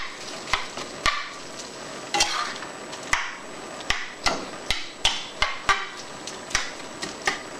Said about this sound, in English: You're gonna mix that in there like that real good.